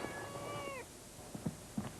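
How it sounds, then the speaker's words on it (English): A cat lets out one drawn-out meow, close and fairly quiet, followed by a couple of faint soft thuds. "Dad went down to the pet shop and chose a cat"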